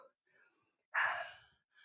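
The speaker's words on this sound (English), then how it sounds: "Hear me panting?" A heavy, breathy exhale bursts out once during a kettlebell cardio workout with a 10.5-pound Triform kettlebell, loud and close, with softer breathing before and after.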